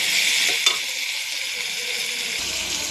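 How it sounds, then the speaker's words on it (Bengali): Spice paste sizzles in a hot pan while being stirred, a steady bright hiss with a few scraping strokes near the start and no talking. "মশলাটা ভাজা হয়ে গেছে"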